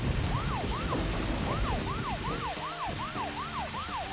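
A police car siren in the Deadly Premonition video game wails in a repeating rise-and-fall pattern over a steady car engine hum, fairly loud and close.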